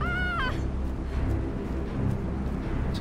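A cat in the video game Planet of Lana gives a short rising-and-falling meow at the start, then the game's low ambient music and rumble carry on alone.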